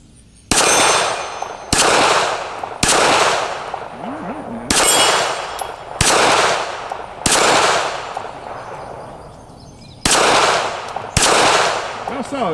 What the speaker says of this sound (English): Let's just do a little bit more shooting here. All right, red plates here.